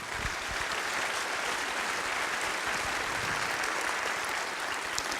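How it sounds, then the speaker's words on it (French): Sustained applause from an audience at a company general assembly, steady dense clapping throughout at a loud, even level with no voices standing out. "qu'on les applaudisse carrément encore une fois très fort"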